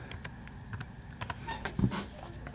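A computer keyboard being typed on to enter a web address: a run of close, uneven clicking keystrokes with short pauses, a couple of louder taps near the end, and no talking.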